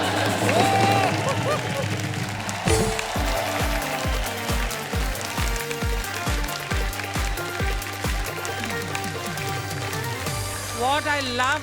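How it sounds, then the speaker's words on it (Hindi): A studio audience at the Laughter Champion comedy show gives loud, dense applause for two performers, a sustained wash of clapping over a steady thumping music beat, with voices heard near the start. "इन दोनों के लिए जोर जोर से तालियां बजाएं"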